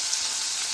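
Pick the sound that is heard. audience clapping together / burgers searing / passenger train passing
burgers searing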